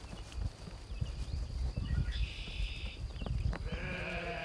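Flock of young sheep moving across a farmyard, with scuffling hooves, rustling movement and a couple of bleats rising over the shuffle.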